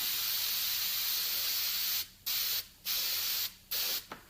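Lacquer spray paint hisses continuously over a stencil on reclaimed wood, then breaks into four short bursts with brief gaps between them. The spray sounds close and fairly loud.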